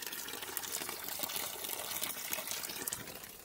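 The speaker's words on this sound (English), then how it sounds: "Ancient water fountain." An ancient Roman fountain in the Roman Forum in Italy runs steadily, a bright continuous splash and gush of falling water, fairly near and alone with no voices.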